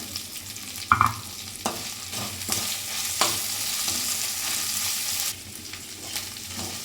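Ginger garlic paste and mint frying in a pan, a steady close sizzle broken by several sharp stirring clatters and scrapes, with no talking.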